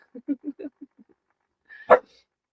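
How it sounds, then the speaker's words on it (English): A dog barks at her ball indoors near a guitar, the sharp bark ringing briefly off the instrument; a short series of soft whimpering yips comes first, then one loud close bark. "You can hear the echo off the guitar when she barks at it."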